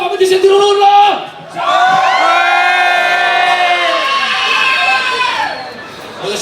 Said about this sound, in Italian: Fammi sentire un urlo!